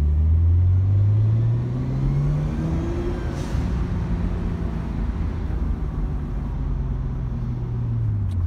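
Nissan Skyline R34 GT-T driving, a steady low engine drone and road rumble inside the car that starts louder and settles into an even cruise, with no talking.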